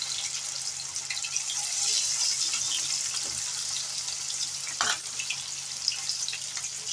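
Food fries in a pan over a medium-low flame, giving a continuous bright sizzle with occasional crackles and a faint clink near the middle, with no talking.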